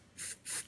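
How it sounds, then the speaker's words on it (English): Two short, quiet bursts of hair spray hissing from an aerosol can onto an ink stain, each lasting about a tenth of a second. "What I'm gonna do, I'm just gonna spray,"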